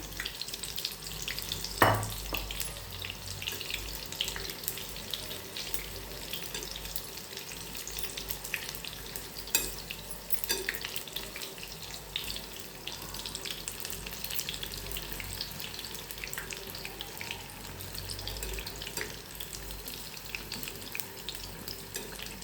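Maida bhaji, flour fritters, fry in hot oil with a continuous dense sizzle and crackle, steady and close for the whole stretch, with no talking.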